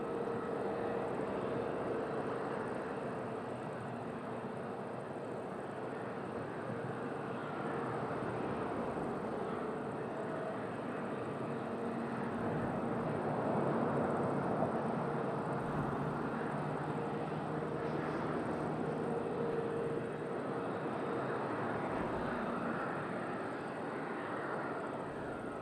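A SATA Açores airliner on the downwind leg at Madeira Airport, heard as a continuous distant engine rumble that swells slightly midway, with no talking over it.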